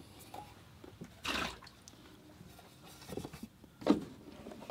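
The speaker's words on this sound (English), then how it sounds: "I will change out my water." Water being swapped out in a watercolor painter's rinse bucket, with two distinct splashing pours or sloshes, one near the start and a sharper one toward the end, over quiet room background.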